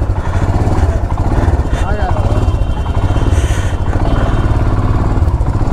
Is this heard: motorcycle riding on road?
yes